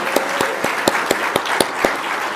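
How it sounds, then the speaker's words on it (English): Audience applause at an annual meeting: dense clapping from a crowd mixed with a few sharp, evenly spaced near claps in a steady rhythm, moderately loud throughout, with no talking. "let's have a round of applause for this"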